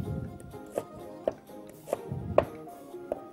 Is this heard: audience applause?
no